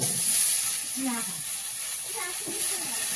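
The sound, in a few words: pumpkin frying in oil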